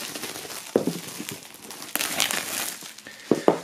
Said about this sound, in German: machen wir die Folie mal ab und schauen uns das Ganze an. So, einmal hier aufschneiden